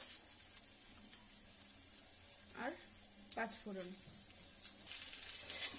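Dried chillies, bay leaf and grated ginger sizzle quietly in hot mustard oil while someone talks over the steady, soft frying.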